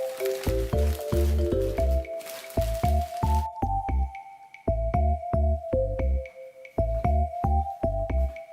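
Hypertufa ingredients are worked together by hand in a container, making repeated wet squelching and squishing sounds in a steady, close, rhythmic pattern.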